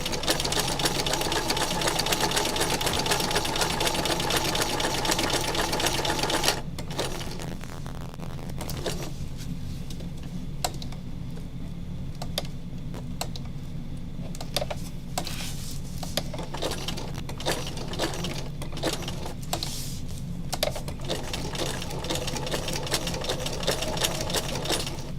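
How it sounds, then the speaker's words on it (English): A home sewing machine stitches through thick, bulky layers, a steady mechanical whir that runs loud for the first several seconds, then continues more quietly with uneven clicks and small rattles. "Your sewing machine does not like to stitch over things like this."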